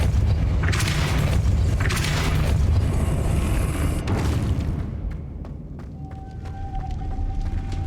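A Depulso spell cast in Hogwarts Legacy lands as a loud, rumbling boom of force that rolls for several seconds, then fades into scattered small clicks and a faint tone.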